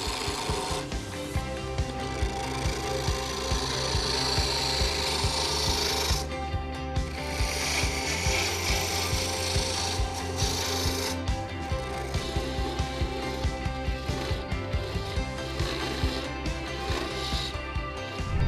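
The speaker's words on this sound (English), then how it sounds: "this wood lathe is gonna spin this piece of wood really, really fast" A wood lathe spins a piece of wood fast while a chisel on the tool rest cuts and shapes a honey dipper, making a steady loud rasping, scraping whir that runs unbroken with a low motor hum.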